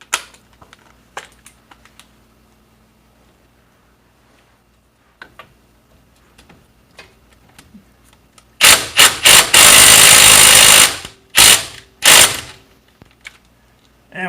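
An impact wrench loosening the top brake caliper bolt on a 2010 Chevrolet Suburban 2500, heard as a loud close rattling burst with several short hammering pulses, after a stretch of faint clicks and handling noises.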